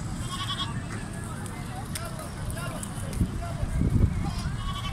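Goats bleating on a goat farm in Dera Ghazi Khan, a few calls rising over steady outdoor farm noise, with people talking nearby throughout.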